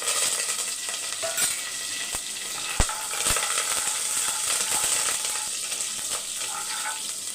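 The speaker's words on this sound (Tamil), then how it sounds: "நல்லா எண்ணெய் காஞ்சிருச்சு ரெண்டு பச்சை மிளகாய் சேர்த்துக்கலாம் இது கூடயே கொஞ்சம் கருவேப்பிலை" Green chilies and curry leaves sizzle in hot oil for a village-style chicken curry, a steady close hiss broken by occasional sharp pops and crackles.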